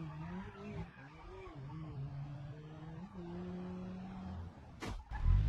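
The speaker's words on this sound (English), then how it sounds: "we wrecked our freaking car again" A car sliding and skidding in the BeamNG driving game, with a steady engine drone and tire squeal throughout, then a sharp loud crash impact near the end.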